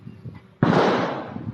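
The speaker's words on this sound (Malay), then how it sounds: "yang bunyi tembakan tadi tu bukan komunis" A single sharp gunshot cracks out in a rural village on an overcast day after rain, loud and close, with a long decaying rumble echoing afterward and no talking.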